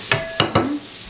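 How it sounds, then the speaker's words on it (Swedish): Shrimp are stirred into a hot frying pan, with three quick scraping clinks of a utensil against the pan over a soft sizzle. "blanda i lite räkor."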